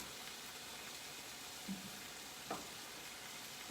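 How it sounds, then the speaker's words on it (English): Chicken frying in a pan just after being flipped, a quiet steady sizzle with two soft clinks from stirring or turning. "So I'm just going to flip this chicken."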